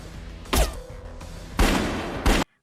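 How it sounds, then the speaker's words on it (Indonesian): Gunfire in a film shootout: three loud, sharp bursts of shots, each echoing briefly, separated by short pauses before cutting to silence. "Tembak-menembak pun terjadi antara Yuri dan Lee."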